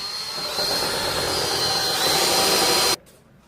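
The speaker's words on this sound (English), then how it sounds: "Successfully drilled out and separated from the panel." A drill bores out a spot weld on a Nissan 240SX radiator support, a loud steady high whine with a thin tonal squeal that runs nearly three seconds, then stops abruptly, leaving quiet room tone.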